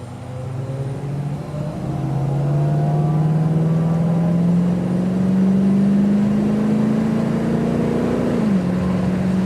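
A vintage 1965 Ford Mustang fastback accelerates hard, its engine note climbing steadily in pitch as it pulls through a long gear, then dropping briefly at a shift near the end; loud and close with no talking.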